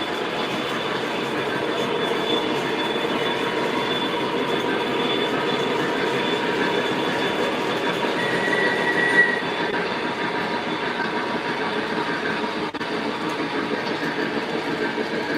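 An MTH model switcher locomotive rolls on a toy train layout, making a continuous close rumble with wheel clatter and a faint high squeal running steadily throughout.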